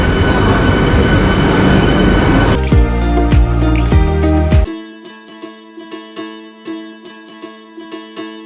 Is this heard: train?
yes